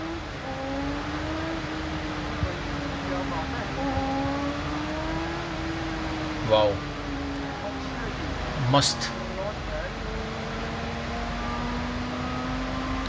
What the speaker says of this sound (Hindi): आवाज़ बहुत ज़बरदस्त है क्योंकि इनलाइन 4 है।